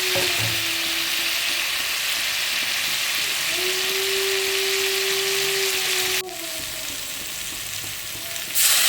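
Potatoes fry in a pan for a spicy tilapia curry, a steady loud sizzle and crackle with a faint tonal hum, easing slightly in the final seconds.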